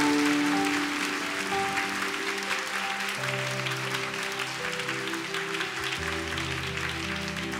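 A church congregation applauds in praise, steady clapping spread across the room over sustained worship music with held keyboard chords throughout.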